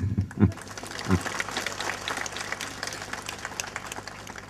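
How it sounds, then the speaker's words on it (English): Audience applause at an interaction session with IAS aspirants, a steady spread of clapping from a crowded room after a couple of low thumps at the start, moderately loud throughout. "They deserve an applause for that."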